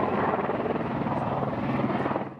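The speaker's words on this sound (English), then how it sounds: "The sound of this helicopter meant these 4 backcountry skiers' nightmare was almost over." A helicopter flies during a mountain rescue of backcountry skiers, its steady rotor thump and engine roar loud and continuous throughout, with no voices over it.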